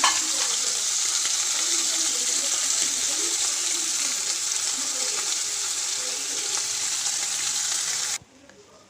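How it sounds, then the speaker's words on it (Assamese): Small karoti fish rubbed with turmeric and salt frying in hot oil, giving a steady, dense sizzle that stays even for about eight seconds before cutting off abruptly to near quiet. "এনেকৈ মই মাছখিনি তেলত অকণমান ফ্ৰাই কৰি ল'ম।"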